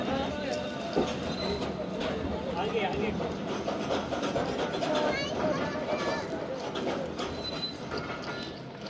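The Khyber Mail passenger train rolls slowly along a platform, a dense, continuous rumble of wheels and rail clatter with faint squeals, heard close and loud while someone talks over it.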